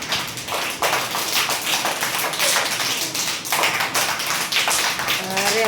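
Children clap their hands together to imitate heavy rain, producing a dense, continuous patter of many overlapping claps that swells and stays loud, with a brief voice at the end.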